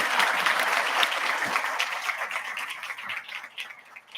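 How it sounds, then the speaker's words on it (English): A crowd applauds steadily, a dense wash of clapping that stays loud throughout and eases slightly toward the end. "Please give Tom Pesek a round of applause for all of his astounding work."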